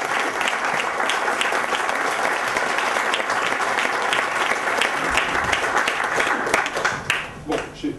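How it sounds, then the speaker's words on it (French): An audience at a lecture applauds the arriving speaker, loud sustained clapping from a full room that continues for several seconds before thinning out near the end. "Donc je vous demande d'applaudir chaleureusement mon grand ami Jean-Michel Beignet."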